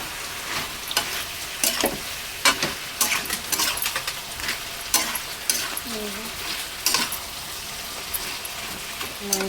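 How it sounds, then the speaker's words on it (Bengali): Meat browning with ground spices and chilli powder in a pan, a continuous sizzle broken by repeated sharp scrapes and stirs of a spoon, close and fairly loud throughout. "মশলা কষিয়ে মাংস কষছে এখন"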